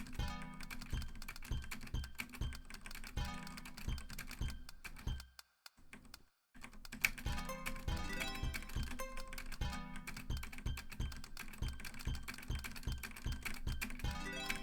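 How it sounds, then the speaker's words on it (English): Fast, continuous clatter of a computer keyboard being typed on, close and steady, with a short pause in the middle before the keystrokes resume. "Do you hear the sound of my keyboard right now?"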